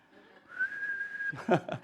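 A person whistles one long, steady, sustained note at close range, then a voice starts speaking right after.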